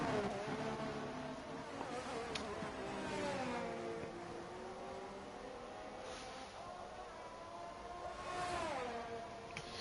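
The AlphaTauri Formula 1 car's engine in F1 2022 at the British Grand Prix whines with a high harmonic tone that rises and dips as the revs change through a lap, heard at moderate distance.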